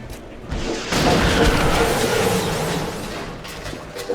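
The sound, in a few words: rocket fired in XCOM Enemy Unknown video game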